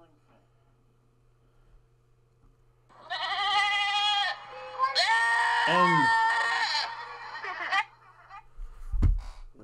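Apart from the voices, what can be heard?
goats bleating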